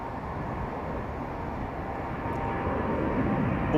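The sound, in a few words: aircraft departing Heathrow at full power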